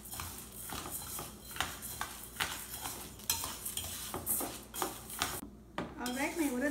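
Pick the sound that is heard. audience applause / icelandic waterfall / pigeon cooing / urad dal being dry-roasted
urad dal being dry-roasted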